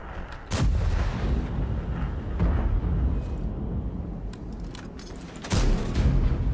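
Tank cannon shots in World of Tanks, two sharp loud booms with rumbling tails, one early and one near the end, over a steady low game engine rumble.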